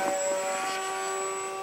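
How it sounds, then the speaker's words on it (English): An RC model airplane flies outdoors in ice-cold weather of about -20 °C, its motor giving a steady, thin, high whine that holds evenly throughout at moderate distance. "Flies really great, this plane."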